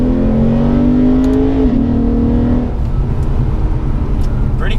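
A Lexus RC-F pulls hard from low speed in first gear. The loud, close engine note climbs steadily, then breaks off and settles into a lower roar.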